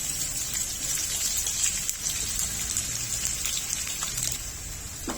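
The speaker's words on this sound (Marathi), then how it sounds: "आता यामध्ये बारीक चिरलेला कांदा घालून घ्यायचा आहे" Finely chopped onion tossed into hot oil with curry leaves, garlic and chillies sizzles in a steady, dense hiss that runs unbroken throughout.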